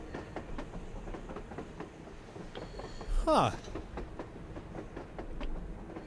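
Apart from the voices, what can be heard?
train passing on the surface in video game Metro Exodus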